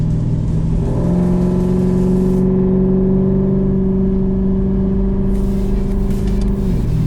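A car accelerating hard through its gears, the engine drone climbing steadily in pitch, then a brief drop at a shift before rising again, loud and close with no talking.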